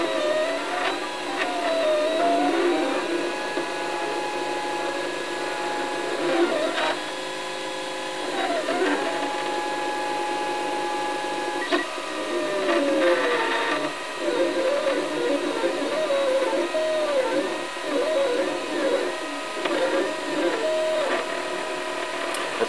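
3D printer laying down semi-flexible filament that is extruding poorly, steady motor hum with whining, warbling stepper tones that rise and fall as the print head moves, a few clicks, and no clear talking.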